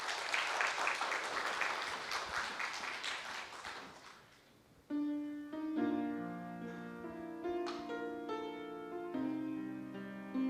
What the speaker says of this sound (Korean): 박수로 모실까요?